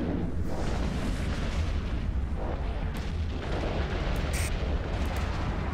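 Ship weapons firing at a tower in the space game Eve Online, a dense continuous rumble of heavy booming gunfire with a few sharper bright pops, loud and steady.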